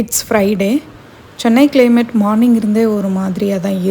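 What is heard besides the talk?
None of the usual background noises is heard.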